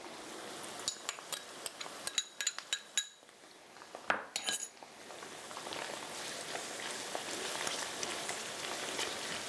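Tofu roasting in a pan with ginger and garlic being added, giving a steady crackling sizzle like light rain, broken early by sharp clinks and scrapes of utensils against the pan, then a dense continuous frying hiss.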